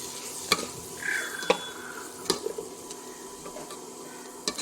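Chicken curry spices, chili, coriander and pepper powders, stirred in a pan with a faint sizzle, punctuated by a handful of crisp spoon taps and scrapes at uneven intervals, close and without speech.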